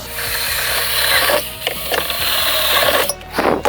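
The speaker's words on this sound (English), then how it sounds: "Now that we got our 2 bolts tightened on the bottom, you're gonna proceed to drill the top 2." A loud, close power drill whirs steadily, with brief pauses and changes in pitch as it bites into material, drilling bolt holes for mounting brackets on a 2024 XP 1000 side-by-side. Nobody speaks.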